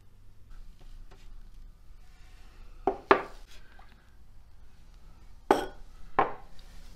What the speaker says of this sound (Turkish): Şimdi tepsiden alacağım tek tek yavaş yavaş.